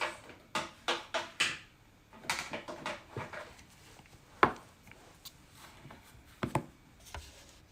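A feathering knife cuts a clay slab for a ceramic toast dish, producing a series of soft, close scraping and tapping strokes, irregular and quiet, with no talk.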